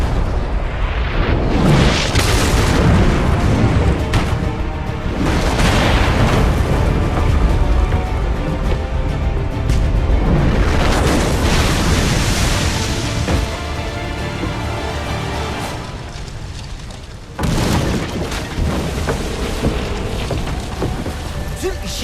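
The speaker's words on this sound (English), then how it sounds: "Greek fire!" Greek fire explosions in Assassin's Creed Revelations, loud booming blasts that keep rolling through the whole stretch, with heavy low rumble, several separate bursts and a sharp fresh blast near the end.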